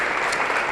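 Audience applause with steady hand claps filling the whole moment, dense and even throughout.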